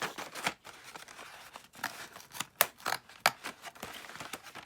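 Scissors cutting open cardboard boxes of Sharpie Cosmic Color permanent markers, a run of sharp, close snips and crisp slicing strokes in an uneven rhythm, with no voices.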